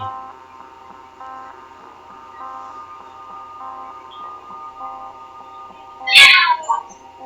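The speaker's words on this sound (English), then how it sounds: "he could still hear his cat meowing at the door for hours" A cat meows over a steady tonal musical background, with one loud, sharp meow standing out near the end.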